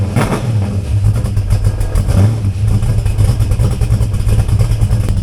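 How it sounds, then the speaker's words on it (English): A classic car's engine runs steadily with a loud, close exhaust note, the pipes giving off a rapid pulsing rattle and vibration throughout, with no talking over it. "I'm not gonna let it run too long because we're gonna get under the car and be working with the pipes, but I want you to hear the rattle."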